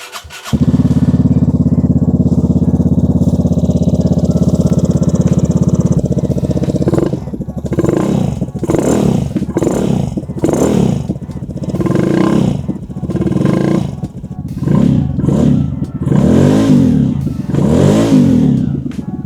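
A Vespa scooter fitted with a high-flow cold air intake and a Malossi air filter idles with a deep, hollow drone, then revs repeatedly in sharp, rising bursts, loud and close, with no talking.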